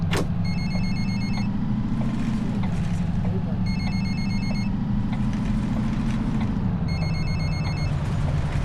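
Passengers' mobile phones ring in bursts of repeated electronic tones inside a VDL city bus in The Bus driving game, sounding over the constant low engine hum.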